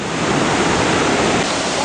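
The Mandakini river churns below Rambara on the Kedarnath trek, a loud, dense, unbroken roar of rushing water right up close, filling everything with constant broadband noise and no voices.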